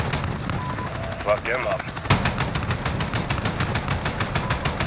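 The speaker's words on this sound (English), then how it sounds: "Guns, guns, guns. Still firing, still firing." Aircraft gun fire in a Call of Duty game, a rapid, steady burst of loud rhythmic shots starting abruptly and continuing for several seconds, after earlier scattered gunfire and a short spoken line.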